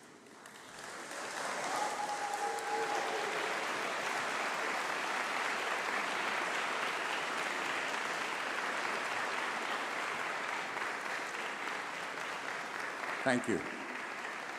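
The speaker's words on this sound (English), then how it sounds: "Please stand up and give them a huge round of applause." Graduates at a summer university congregation ceremony applauding families, friends and faculty, a sustained, fairly distant wash of clapping from a large hall crowd, with a brief spoken thanks near the end.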